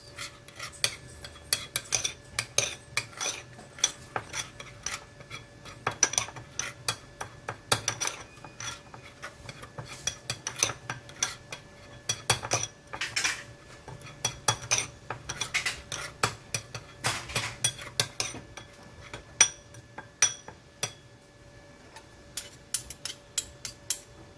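Spoon clinking and scraping against a bowl while a salmon muffin mixture with soy sauce, nori and sesame seeds is stirred, a steady run of sharp taps and scrapes throughout, close and alone.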